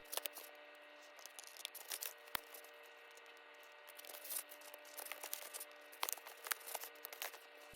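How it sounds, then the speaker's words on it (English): Scissors trim the rough edges of craft foam for a cosplay wand, making faint scattered snips and soft rubbing clicks at an irregular pace, close up in a quiet room. "Trim the rough edges with scissors."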